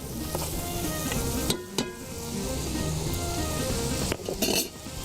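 Coriander and turmeric roast in a pan for Karachi-style beef aloo biryani, a dense continuous sizzle with a few sharp metallic clinks of a spoon against the pan, close and steady with no talk.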